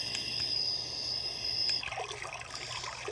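A portable white noise sound machine plays a river water track, a steady rushing and trickling wash with a brief high tone early on, loud and continuous throughout.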